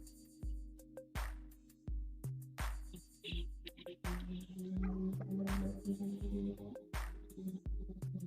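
A dog barks repeatedly in a steady series of close, loud woofs, about a dozen in quick succession with slight whimpering tones between them.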